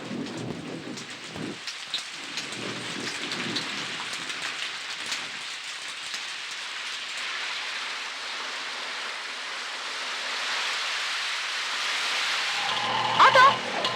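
Steady heavy rain pours down in an unbroken hiss for the whole stretch, swelling slightly and ending with a couple of louder bursts.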